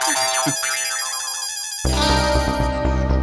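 An electronic phone ringtone plays as a bright melodic tone pattern, then swells louder and fuller with a bass-heavy musical layer.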